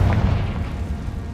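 A Confringo spell explodes in Hogwarts Legacy, a loud, deep booming blast with a rumbling tail that slowly fades.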